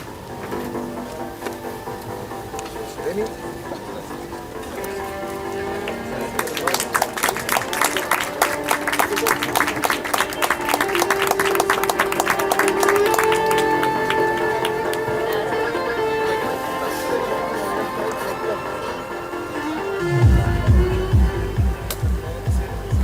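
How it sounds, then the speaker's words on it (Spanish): Applause at a launch event for design guides in Antofagasta, Chile, rising mid-way into a thick burst of many hands clapping over a background murmur, then thinning before a low rumble closes it. "Un aplauso, por favor."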